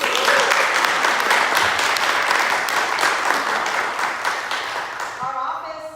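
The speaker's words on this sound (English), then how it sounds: "Can we get a round of applause?" A crowd at a dedication ceremony for a new AI center breaks into a round of applause, dense and loud, rolling steadily and then tapering off near the end as a voice returns.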